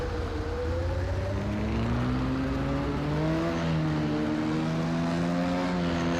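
Race car lapping Monza on a wet, rainy start in Project Cars 2, its engine droning steadily with rising and falling pitch as it accelerates and shifts, continuous and fairly close.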